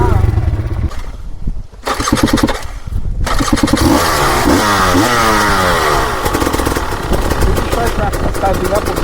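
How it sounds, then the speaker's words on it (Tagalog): Motorcycle engine revving and idling at a river crossing, a rising and falling rev pattern up close, with people talking over it. "Ganyan yung tunog ng makina mo."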